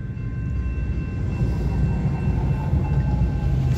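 A slow westbound CSX freight train carrying work equipment on flat cars rumbles past a crossing in Plymouth, Michigan, a low, steady rolling drone at moderate distance.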